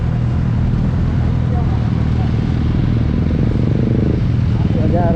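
A group of motorcycles rides together on a Sunday outing, and their engines drone loudly and steadily the whole time as a person speaks over the noise.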